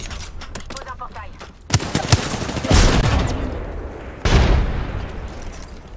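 Rapid bursts of automatic gunfire in the video game Halo, a stuttering volley followed by two louder sustained barrages, with players chattering over the shooting.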